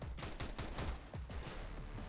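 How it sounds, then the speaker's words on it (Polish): Rapid bursts of automatic gunfire from the video game CS:GO Danger Zone crackle continuously over a dense, loud mix, with repeated overlapping shots and no talk. "Są strzały"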